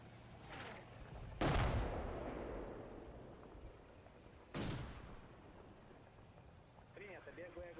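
Two heavy, booming blasts of artillery and gunfire several seconds apart in the military video game Red Thunder, each one decaying into a long rumble, with muffled radio chatter near the end.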